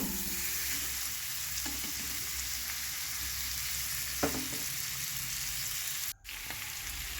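Chicken sautéing in a pan after salt and a spice paste go in, with a steady broadband sizzle running throughout, a few soft stirring scrapes, and a brief drop near the end.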